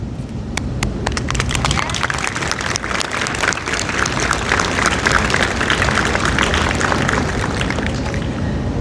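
Sustained applause from a crowd at a cadet award ceremony, dense steady clapping throughout with a few sharp individual claps standing out near the start.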